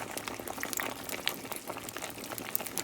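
Pork skins simmering in salsa for chicharrón tacos, a close, continuous bubbling and sizzling hiss with small pops throughout, heard alone.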